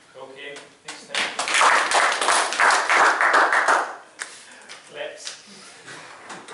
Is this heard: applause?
yes